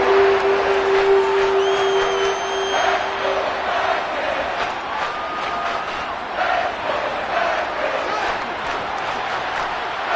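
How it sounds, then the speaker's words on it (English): A stadium crowd in a Madden football video game shouts and roars continuously, loud and dense, with whistles and cries rising out of the noise. "Plenty of shouts from this crowd as they watch the replay."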